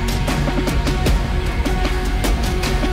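Melodic dubstep lead synth doubled an octave higher, riding over a busy percussion loop and heavy low end; dense, loud and continuous with sharp rhythmic stabs throughout, no voices.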